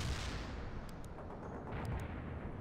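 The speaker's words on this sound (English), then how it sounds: "This tank is still shooting our stuff back at spawn." Tank gun fire in World in Conflict, a heavy booming blast with rumbling decay, loud and close, followed by a dense low roar of battle.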